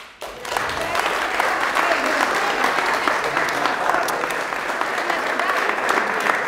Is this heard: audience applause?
yes